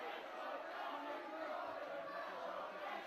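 Crowd noise fills a wrestling arena during a tag team title match, a steady, dense roar of cheering and shouting that holds evenly throughout without a break.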